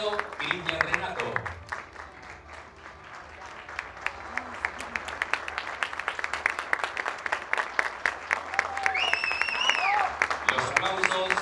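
An audience claps for a newly proclaimed municipal official receiving a diploma at a civic ceremony, a sustained round of applause that swells toward the end while a voice and some tonal sounds carry over it.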